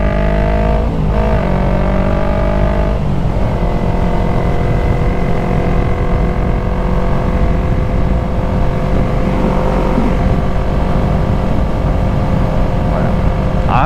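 Yamaha MT-03 motorcycle engine cruising along on an open road, a steady loud drone with shifting harmonics and constant wind rush, continuous throughout with no speech.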